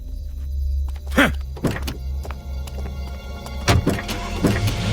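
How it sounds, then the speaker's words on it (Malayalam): A car door thunks shut over a low idling engine rumble, followed by a few more knocks and shifting car sounds as the vehicle gets ready to pull away, with no talking. "വണ്ടി എടുക്കടാ ജോസേ."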